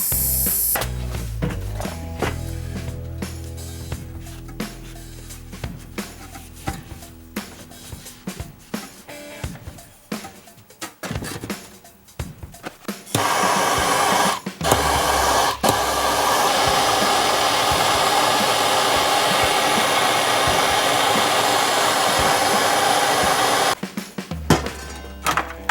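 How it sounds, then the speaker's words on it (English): Air hisses steadily through a boiler's vacuum release and bleed valve, broken up at first by clanks and metallic taps, then a long loud continuous rush into the boiler that cuts off near the end. "So open that drain, turn this, and I'm letting air in here."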